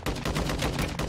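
Shots ring out in Warzone 2 gameplay, a dense run of sharp gunfire reports close together over about a second, loud and up front.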